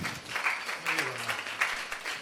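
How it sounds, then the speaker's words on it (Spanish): A small audience claps for a poem at a literary talk, a light scattered applause mixed with faint voices and murmuring. "Pues un aplauso también así."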